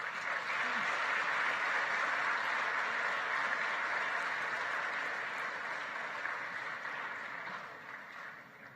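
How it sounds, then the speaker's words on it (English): Audience at the Aviation Africa Summit opening ceremony in Kigali applauding as a head of state departs: dense, sustained clapping across a large hall, even and continuous, tapering off slightly toward the end. "Please, another round of applause"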